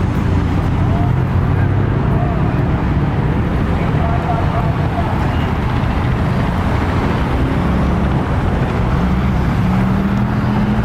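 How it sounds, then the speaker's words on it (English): Cars rumble out of a crowded car meet parking lot in a continuous low drone of engines and road noise, with a passing motor rising near the end and steady wind buffeting throughout. "all these cars are just coming out of the parking lot because there's no more parking"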